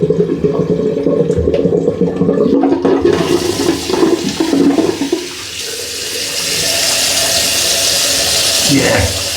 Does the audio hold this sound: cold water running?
yes